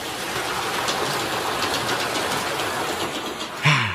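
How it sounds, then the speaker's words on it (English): A train rolling along in a steady, continuous rumble with faint rhythmic clatter, loud and close, with a brief sharp sound near the end and no talk. "The train. Now that was the way to travel."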